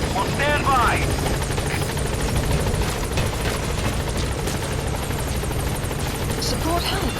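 A support helicopter arrives in Metal Gear Solid V: The Phantom Pain, its rotor a loud continuous whirring drone throughout, with radio-style voice chatter over it.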